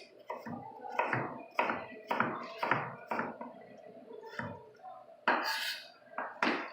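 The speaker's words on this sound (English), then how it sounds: "And after that, you want to cut them in strips." Knife chopping thin raw potato slices into strips on a board, a run of sharp, close, irregular thuds and taps spaced roughly half a second apart.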